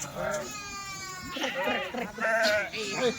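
Kathiawadi sheep bleat in a flock on a farm. Several wavering, nasal cries come in quick succession, loud and close, mixed with someone talking over them.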